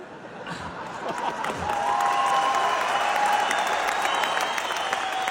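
An audience at a televised comedy competition claps, building from a scattered start into sustained, loud, even applause that fills the hall.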